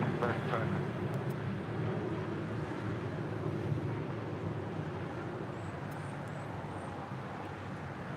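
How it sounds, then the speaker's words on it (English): An American Airlines Boeing 737-800 jet takes off at LAX, a broad rumbling engine roar that stays strong and gradually eases, with wind buffeting the microphone and a voice talking over it. "That was American Airlines Flight 538 heading to Indianapolis, Indiana, and that's 737-800."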